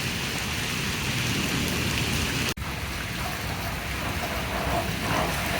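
Heavy monsoon-style rain pours down in a steady, dense roar, with a possible low rumble of thunder mixed into the downpour during a lightning storm.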